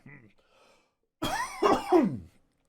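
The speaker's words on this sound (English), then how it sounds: "I'm just coughing with delight." A brief throat noise, then a pause and a burst of several harsh coughs close by, fairly loud.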